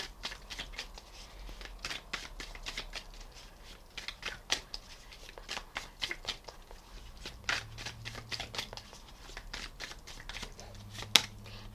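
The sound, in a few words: shuffling tarot cards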